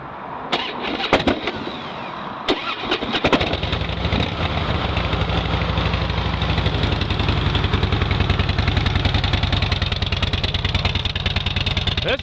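A few clicks and cranks, then the engine of a 2007 Harley-Davidson Deuce with stock exhaust fires up and settles into a steady, throbbing idle that continues loudly to the end.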